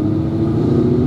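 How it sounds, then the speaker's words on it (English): A Camaro ZL1 fitted with an AWE exhaust cruises gently through a neighborhood, its engine giving a loud, steady low rumble from close by for about a second, with no revving and no speech. "The nice thing about this AWE exhaust is there is zero drone"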